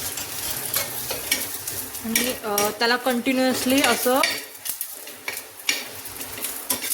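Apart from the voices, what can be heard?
chopped coconut roasting in oil on a hot pan, stirred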